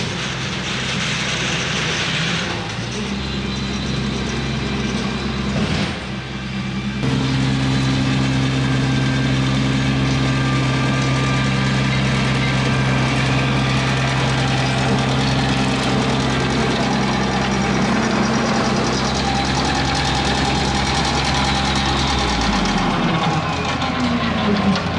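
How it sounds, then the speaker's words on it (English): A tractor engine idles with a steady low rumble on a farm, briefly dropping out before resuming and droning on evenly. "I love that new tractor too."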